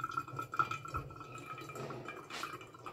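Hot water drips and trickles through Colombian medium-roast ground coffee in a pour-over brewer, with soft irregular drips and light liquid splashes close by and fairly quiet.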